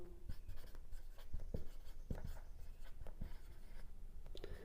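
Pen or pencil scratching across paper while a geometry proof for an eighth-grade maths lesson is written out by hand, with short taps and strokes in a steady, close, irregular rhythm and no talking.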